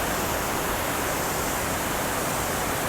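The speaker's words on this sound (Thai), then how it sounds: "เป็นน้ำตก" A waterfall pours in a natural setting, its dense, even hiss of falling water filling the scene at a constant level from start to finish.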